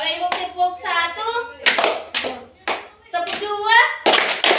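Fifth-grade children clap their hands in a classroom call-and-response clapping game, with several sharp group claps breaking in between the teacher's spoken calls.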